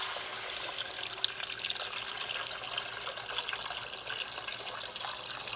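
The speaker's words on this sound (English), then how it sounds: "So I just poured in the water." Water pours steadily into a cooking pot holding thinly sliced potatoes for tomato egg soup, a close, continuous splashing trickle with no talk.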